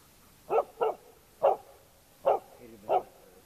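A dog barks five times in quick, sharp, close yips spread over a few seconds, with a quiet background and no talk.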